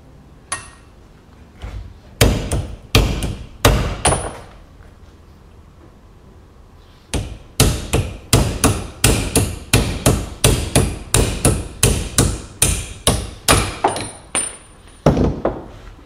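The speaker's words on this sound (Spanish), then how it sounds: "Para desclavar el buje vamos a utilizar este pedacito de caño y un martillo." Sharp metallic hammer blows ring out close by as a hammer and a short piece of pipe drive out a control arm bushing on a Peugeot 405, a few spaced strikes, then a pause, then a long run of rapid, rhythmic hits.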